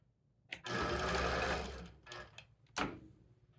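A long-arm quilting machine stitches across the edge of a scrappy 9-patch quilt top in one sustained rapid whirring run, followed by two brief short bursts of stitching, close and clear.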